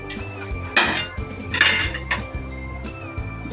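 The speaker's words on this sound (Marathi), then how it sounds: "असा थोडा थोडा कापून खिसून घेऊया." Peeled bottle gourd (dudhi) is cut and scraped on a metal grater in a home kitchen, with a few rough rasping strokes and light clinks over soft background music.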